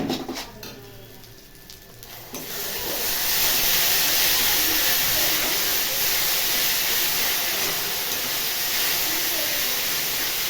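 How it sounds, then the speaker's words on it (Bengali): Spices with turmeric frying in a hot wok, starting with a few quieter clatters and then swelling into a loud, steady sizzle and hiss that continues to the end. "মশলাটা ভাজা ভাজা হয়ে যাচ্ছে"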